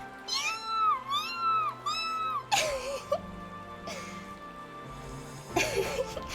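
A voice imitates a hungry kitten begging for food, giving a run of rising and falling meows: three quick cries, then longer whining wails spaced apart, close and fairly loud.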